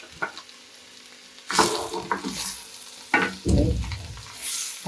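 Bitter gourd fries in a pan as ground masala is added and stirred in, giving bursts of sizzling and scraping stir strokes separated by quieter moments.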